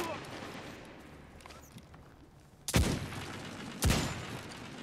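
Two sharp, loud gunshot bursts from a Destiny 2 PvP match on the Home For The Lost map, spaced about a second apart, rising out of quieter background game noise and low chatter.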